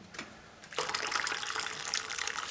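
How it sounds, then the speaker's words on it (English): Hot water pours steadily from a kettle over small sterilized jars sitting in a pot, a broad close splashing that starts after a short pause and keeps running evenly to the end. "I will top it up with more hot water"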